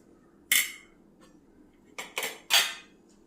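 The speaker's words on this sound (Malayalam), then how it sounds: "കത്തിരിക്ക ഇതിൽ നിന്ന് ചട്ടിയിൽ നിന്ന് എടുത്തു മാറ്റി" A few sharp clattering scrapes of a utensil against a pan as fried eggplant is taken out, one early and a quick cluster of three near the end, over a quiet low hum.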